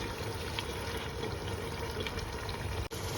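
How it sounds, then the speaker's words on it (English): Water poured into a cooking pot while making Gambian fish stew, a steady, even rush of filling liquid that continues without a break, fairly faint and with no voices over it. "now you add your water and then you mix it"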